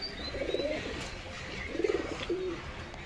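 A pigeon coos nearby in a few soft, low rounded phrases, with a brief higher chirp at the start, over quiet indoor background hiss.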